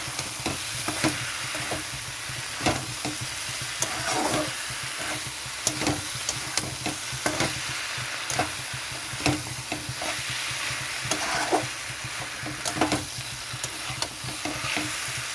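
Mustard and cashew paste for Bengali shukto being stir-fried in a pan, steady sizzling hiss punctuated by regular knocks and scrapes of a spatula, close and alone without speech.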